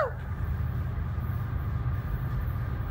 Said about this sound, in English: here comes the manifest train.